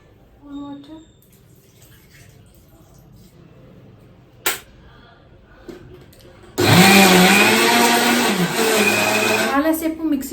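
A kitchen mixer grinder churns cream with cold water to make homemade butter for ghee. After a quiet stretch with faint voices and a sharp knock, it kicks in loudly and runs as a steady, roaring whir.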